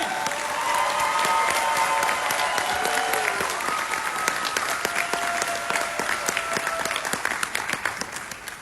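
Sustained applause from a large crowd at an outdoor political rally in Thailand, dense clapping that stays loud throughout before thinning slightly at the end.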